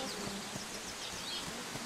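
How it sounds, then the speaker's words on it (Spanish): Bees and mosquitoes buzz faintly and steadily in a flowery garden plaza in the horse racing video game Rival Stars Horse Racing, a soft continuous insect hum with no talking. "Hay abejas y todo, y mosquitos."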